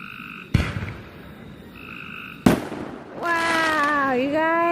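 Fourth of July fireworks go off at night in two sharp booming bursts with crackling tails, over steady insect chirping, followed by a loud rising whistle or shriek.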